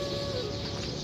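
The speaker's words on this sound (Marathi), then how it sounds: "आणि इथे चिमण्यांचा भरपूर किलबिलाट येतो." Sparrows chirp in a busy, steady chatter at an early-morning riverside stop along the Narmada, the twittering continuous and moderately close over a wash of outdoor background noise.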